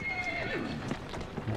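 A horse whinnies briefly while hooves clip-clop softly, with some background game ambience, fairly close, in Assassin's Creed Syndicate.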